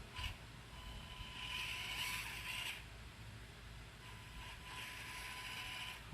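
Axial SCX24 1/24-scale Jeep Wrangler RC crawler running, a thin whining motor buzz that rises and falls with throttle over a steady noisy background, close by and without talk.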